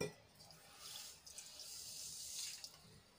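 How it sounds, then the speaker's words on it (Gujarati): Water from a cup poured into a bowl of sugar to make syrup for instant jalebi, a steady soft splashing trickle lasting a few seconds, fairly faint and close. "હવે એમાં 1/2 કપ જેટલું આપણે પાણી એડ કરીશું"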